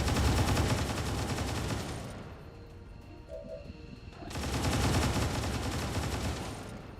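Suppressive gunfire from a soldier in XCOM 2 Long War 2 crackles in two dense, loud bursts of rapid automatic fire separated by a quieter gap of about two seconds, with rumbling echo throughout.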